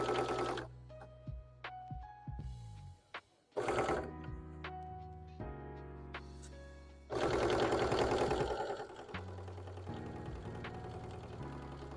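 A sewing machine stitches a Lucario Pokémon hat, its needle clattering rapidly and steadily in several runs that stop and restart, close and clear with no talking.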